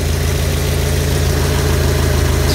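A 1985 Toyota pickup's 22R engine idles steadily and loudly up close, a continuous even rumble with a faint ticking texture and no break over the whole stretch.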